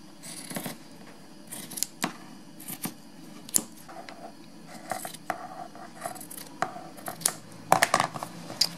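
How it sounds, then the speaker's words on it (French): Scissors snip through cotton fabric for baby mittens, producing a scattered series of short, crisp cuts close to the microphone in a quiet room, with irregular pauses between snips. "Ensuite, je vais couper le deuxième morceau."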